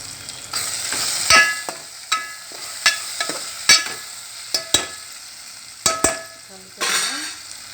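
A white eggplant curry fries in a pan while turmeric and chili are stirred in: a steady soft sizzle broken by about a dozen sharp spoon clinks and scrapes against the pan, close and fairly loud.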